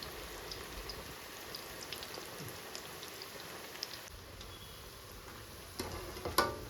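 Ajwain (carom) leaf pakodi frying in hot oil give off a steady, dense crackling sizzle with scattered pops, growing a little louder and sharper in the final moments, with no voices.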